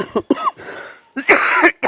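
Several sharp, close coughs come in quick bursts, with a short pause before a harsher, longer fit near the end.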